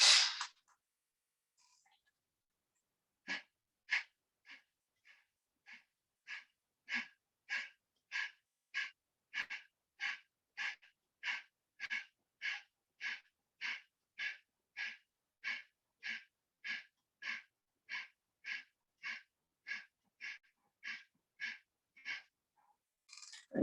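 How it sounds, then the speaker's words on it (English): Rapid, forceful pranayama exhalations during a yoga breathing exercise: about twenty-five sharp, evenly spaced bursts of breath through the nose, close and steady in rhythm, with a short pause and one first puff before the series begins. "Breathe out completely again."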